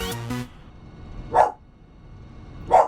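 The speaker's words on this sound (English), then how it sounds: "I got to go see what she's barking at now" A dog barks twice, single sharp barks about a second and a half apart, moderately loud and a little distant in a quiet room, after a short burst of electronic game sound at the start.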